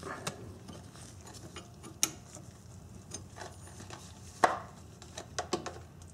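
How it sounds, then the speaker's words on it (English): A wrench cracks open the brake caliper bleeder on a 1990-1997 Honda Accord during a brake job, giving a few sharp, scattered clicks and ticks over a faint workshop background. "Crack open the bleeder."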